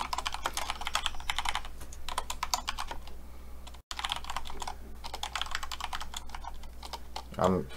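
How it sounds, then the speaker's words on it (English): Rapid, steady clatter of keys on a loud computer keyboard, close and prominent throughout, pausing briefly midway before resuming, with a faint voice-like sound near the end. "I know my keyboard is like super loud."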